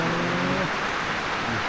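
Rain falls in a steady, dense hiss of drops hitting surfaces, close and uniform through a brief stretch with no voices.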